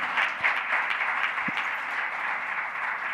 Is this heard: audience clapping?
yes